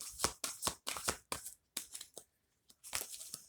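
Cards are shuffled in quick riffling bursts, about a dozen crisp flutters with short pauses between, close and clear with no talking.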